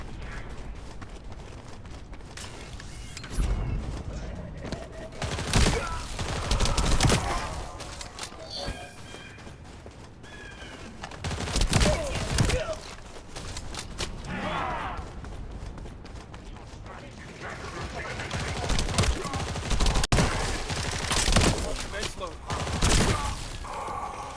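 A gun in The First Descendant video game fires in repeated bursts of sharp, loud shots scattered across the stretch, mixed with thuds and impacts, while someone talks at times over the action.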